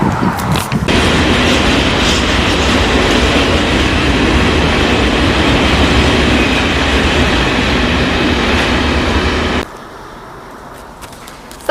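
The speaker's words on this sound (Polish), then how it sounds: "Stacja kolejowa w Krzeszowicach." A train at the Krzeszowice railway station rumbles past loud and close, a steady clattering roar for about nine and a half seconds before it cuts off to a much quieter background.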